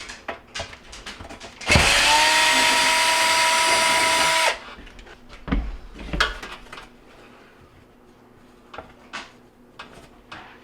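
Power drill backing out two 1/4-inch screws holding the bake element inside a Jenn-Air oven, one loud close whirring run of about three seconds followed by clinks and handling clatter of metal parts.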